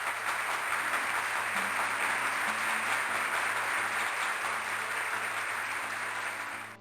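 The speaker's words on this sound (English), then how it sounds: "This applauding is a bit loud, so I don't want to compete with it when I'm talking." Steady crowd applause in the video game Railroad Tycoon 2 holds at an even level throughout, with a faint low hum underneath and no voices.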